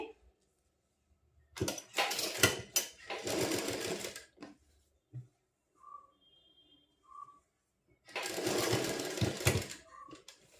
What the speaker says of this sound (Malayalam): അപ്പോൾ ഞാൻ ഇതുപോലെ അവിടെ വരെ സ്റ്റിച്ച് ചെയ്ത് കൊടുത്തിട്ടുണ്ട്